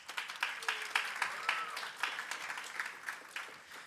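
Audience at a student government induction ceremony claps for an inductee, fairly quiet, rhythmic applause with individual claps audible, somewhat distant.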